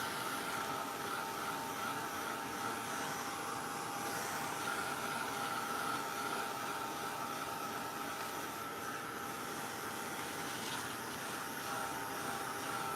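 Heat tool blowing hot air to dry paint on junk mail, a steady whooshing fan hiss with a faint whine, constant and fairly close throughout, no talking.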